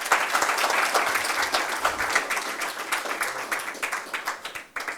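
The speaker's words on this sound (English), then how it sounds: "we should give them a big round of applause." Members of an accountants' chapter gathering in Oman give a big round of applause, dense clapping at first that thins into scattered individual claps as it fades.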